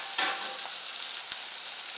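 Sausages sizzle steadily on a Camp Chef FTG600 flat top griddle with butter, a dense close hiss with a few faint clicks over it.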